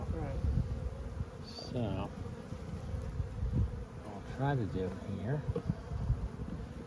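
Honeybees buzzing steadily during installation of new bee packages into a hive, a dense close hum running throughout while someone talks over it.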